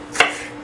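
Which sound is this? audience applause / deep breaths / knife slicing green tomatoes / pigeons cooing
knife slicing green tomatoes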